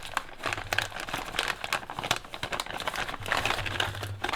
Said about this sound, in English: we're gonna get the servo out of the electronics bag